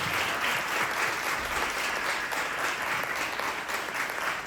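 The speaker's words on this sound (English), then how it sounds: "Please, let's give a final big round of applause to Marta Robobola-Rosales." A conference audience at a panel session applauds steadily, a dense wash of many hands clapping at even loudness throughout, with no voices standing out.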